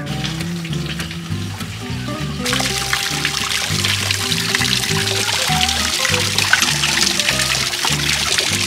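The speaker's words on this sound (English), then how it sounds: "Got water coming out. That's what we need." Raw cooling water pours and splashes steadily from a sailboat engine outlet, a continuous trickling rush over a low rhythmic engine chug.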